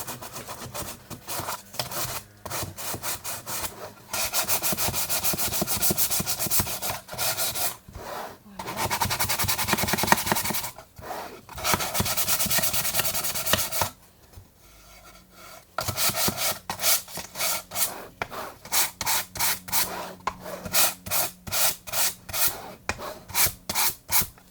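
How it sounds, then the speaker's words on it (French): Hand sanding of painted wooden edges on a vintage toy box, a close, repeated scraping rub in bursts with short pauses between strokes. "Donc c'est bien de venir poncer régulièrement votre travail."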